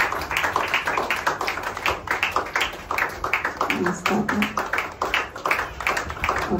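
Audience clapping at a Telugu church gathering, a dense run of sharp hand claps filling the space for several seconds, with a voice briefly audible partway through.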